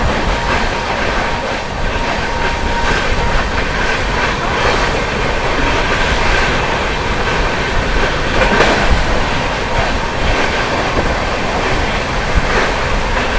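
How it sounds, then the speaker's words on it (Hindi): Amrit Bharat Express train speeding through Chunar Junction in heavy rain, a loud steady roar of rushing wheels and rail noise with faint clickety-clack, continuous throughout with no talk. "क्या रफ्तार में स्किप मारा है चुनार जंक्शन को अमृत भारत एक्सप्रेस में"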